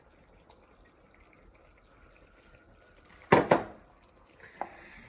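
Green onion tops being stirred into grits in a pot, mostly quiet with a faint thick stir, then a loud double clank of a spoon against the pot and a later lighter knock.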